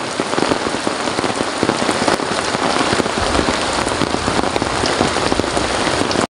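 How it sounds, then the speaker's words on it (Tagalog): Heavy rain pours down steadily at Dagatan Lake, a dense, loud hiss of drops drumming on surfaces with no let-up and no voices. "Grabing ulan na yon"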